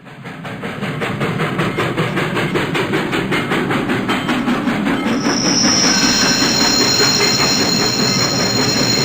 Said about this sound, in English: The train sound started in the upstage speakers and gradually, in time with the visual, moved closer to the audience